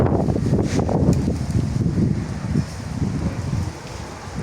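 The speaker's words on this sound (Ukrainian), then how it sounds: "За пару хвилин вітер почав дути" Strong gusts of wind rush past outdoors ahead of a thunderstorm in Chernivtsi, a steady low roar with buffeting on the microphone throughout.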